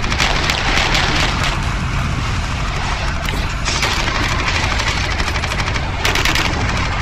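Dense, continuous automatic gunfire rattles through a Warhammer 40K Eternal Crusade battle, a loud unbroken stream of rapid shots with heavier bursts layered over it and no pause.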